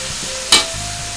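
Pansit noodles with soy sauce and calamansi stirred in a pan, a single brief scraping swish rising out of a quiet background and fading quickly.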